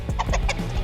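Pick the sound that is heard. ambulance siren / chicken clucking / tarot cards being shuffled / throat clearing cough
chicken clucking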